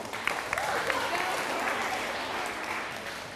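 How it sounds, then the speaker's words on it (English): Audience applause for Hannah at a National Honor Society leadership training, a dense wash of clapping lasting a few seconds at moderate, steady loudness. "Everybody give Hannah a round of applause."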